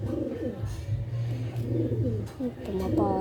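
Pigeons cooing close by in a loft, soft repeated low coos with a few brief chirps, while people talk in the background.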